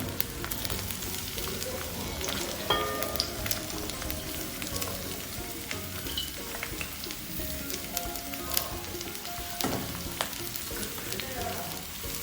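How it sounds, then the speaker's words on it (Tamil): Green beans and capsicum frying in oil in a pan for mixed fried rice: a steady, close crackling sizzle that runs the whole time, with faint sounds in the background. "அப்போ முதலாவது நாங்கள் ஒவ்வொரு வெஜிடபிளை பொரிச்சு எடுக்க போகிறோம்."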